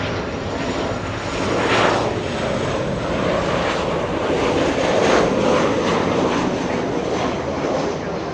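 A Boeing 757 airliner passing over Los Angeles International Airport, a steady broadband jet roar at moderate distance that swells twice as it goes by, with no talking over it.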